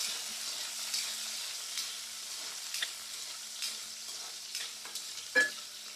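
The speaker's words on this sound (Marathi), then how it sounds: "म्हणून तिला धुवून मग थोडेसे तेलामध्ये फ्राय करायचे असतात" Washed sun-dried sandge fry in a little oil, giving a soft continuous sizzle with occasional stirring scrapes and a louder clink near the end.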